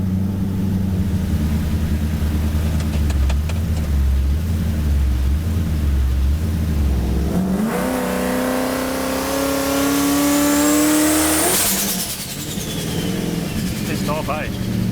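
A 1000 hp Toyota Supra with a rear-mounted turbocharged V8 sits on launch control, its engine loud and near as it revs and holds a rising pitch, then drops off, with voices around it.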